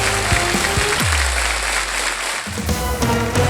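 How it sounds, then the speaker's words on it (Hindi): A studio audience on the Hindi game show Wheel of Fortune gives a steady, loud wash of applause that fills the room throughout, with brief tonal bursts of music or voice near the start and end. "जोरदार तालियां"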